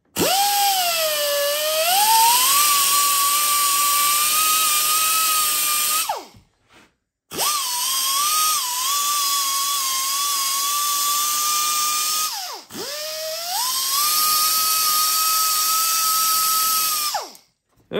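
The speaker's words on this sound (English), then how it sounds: "with the die grinder" Die grinder cutting a hole in a 2024 Ram 3500 Tradesman interior for steering wheel audio buttons, a loud high-pitched whine in three long runs with brief stops and pitch dips between them.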